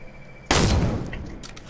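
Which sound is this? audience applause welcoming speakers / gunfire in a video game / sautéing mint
gunfire in a video game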